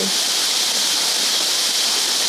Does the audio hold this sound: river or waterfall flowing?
yes